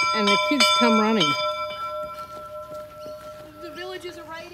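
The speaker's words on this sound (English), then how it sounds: "You ring the bell and the kids come running." A school bell at Timbertown heritage village keeps ringing with a faint, sustained metallic tone while a person talks over it.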